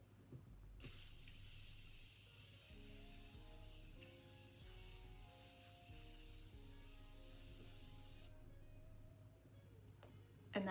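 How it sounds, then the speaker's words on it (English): Morphe setting spray misted onto a face: one long, steady close hiss of several seconds, alone under faint background. "take our Morphe spray and we're gonna spray our face"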